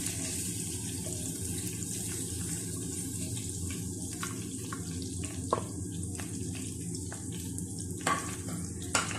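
Mutton chops fry in a pan with a steady, close sizzle and crackle, broken by a few brief clinks and stirring sounds. No one speaks.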